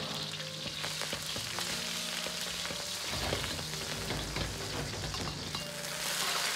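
Ginger and scallions stir-fry in rapeseed oil in a Sichuan kitchen with a dense, crackling sizzle. Scattered pops and stirring clatter sit close over steady frying noise, and no one speaks.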